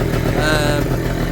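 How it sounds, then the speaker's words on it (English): A Suzuki quad bike engine runs close by after a clutch repair, a steady loud motor drone with a brief rise in pitch as it revs, then settles back to an even run. "Quad's running min, revving up, drives up straight away."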